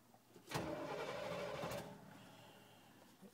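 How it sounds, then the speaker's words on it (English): A gas jeep engine cranking and catching, a short burst of starter whir that fires into a brief rising run before settling, heard close with no talk. "You just push that. It'll fire right up."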